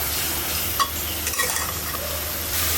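Spices are stir-fried with hilsa fish curry in a pan, giving a steady close sizzle with soft scraping and stirring strokes, a few sharper clinks in the middle, and no voices.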